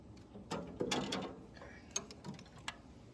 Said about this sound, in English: now we got to disconnect our linkage here